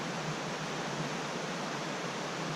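A loud creek in Idaho rushes like a river, a dense, constant roar of water with no breaks, filling the whole scene at close range.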